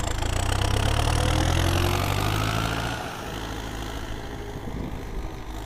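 An MTZ-82 diesel tractor engine runs steadily nearby with a deep, rumbling idle that eases slightly partway through; no voices.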